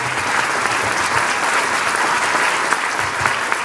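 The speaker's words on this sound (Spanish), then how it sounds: "con un fuerte aplauso" An audience at a lecture in Resistencia bursts into sustained applause to welcome a speaker to the stage, dense steady clapping from a sizable crowd with no talking over it.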